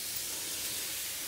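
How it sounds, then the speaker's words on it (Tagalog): Steady, even hiss of a sprayer misting beans in a backyard garden, close and continuous without pause. "Spray na lang natin palabas"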